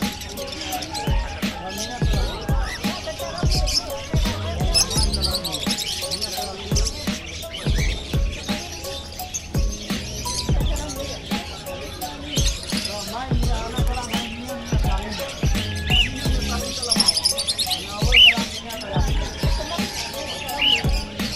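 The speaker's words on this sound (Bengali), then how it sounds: "আরো পাখি আছে এখানে, প্রচুর পাখি এখানে দেখুন, এই যে সবগুলো কিন্তু টিয়া" Parrots chirp and squawk in scattered, short calls at a bird market in Qatar, with many birds close by and someone talking over them for most of the time.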